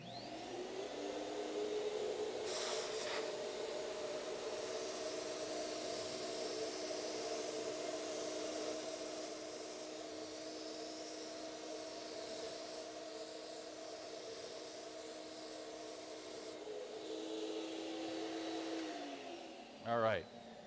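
A paint spray gun runs with a lot of air flowing, spraying almost dry. It gives a steady loud airy hiss with a constant mechanical hum that lasts about twenty seconds, then cuts off.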